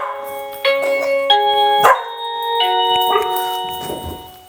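A dog barks several times indoors, sharp close barks sounding against a ringing tonal doorbell chime from a wireless doorbell; no talk.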